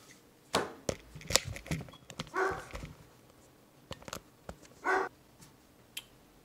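A pet dog indoors barks at the mail's arrival: several sharp, fairly loud barks in irregular bursts, with a few fainter knocks and thumps between them and no talking.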